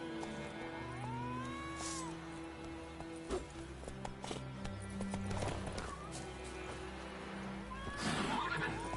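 Roach, the horse in The Witcher video game, whinnies loudly several times over steady galloping hoofbeats and a bed of music, with the neighs standing out near the start and again toward the end.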